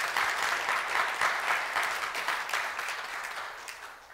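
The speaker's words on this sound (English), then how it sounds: "Let's give our community a round of applause." A church congregation claps in a long, even round of applause, a dense wash of hands that slowly tapers off toward the end.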